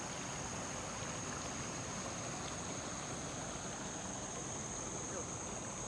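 Water from a countryside stream in the Philippines, heard as a steady, broadband rushing wash that runs unbroken at a constant level, with no voices over it.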